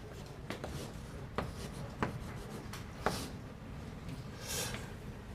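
Chalk or marker scratching across a board during a university calculus lecture, a steady run of strokes and taps with a few sharper accents, close and alone without talk.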